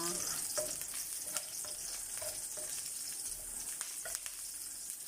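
Squash and onion sautéing in a pan for a vegetable and vermicelli soup with mung beans, giving a steady close sizzle and frying hiss with light scrapes and stirring clinks throughout.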